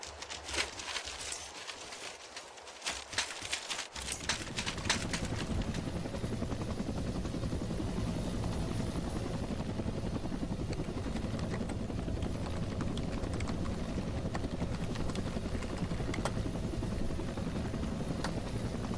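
A helicopter in a military flight-simulation training course, rotor and engine drone rising after a few clicks and light knocks, then holding a steady, close, continuous roar.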